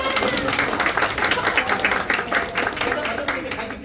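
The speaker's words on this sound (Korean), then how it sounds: "박수!" Korean classroom children clapping briefly in a scattered, uneven burst after a correct answer about pigeon feathers, with voices chattering over the clapping.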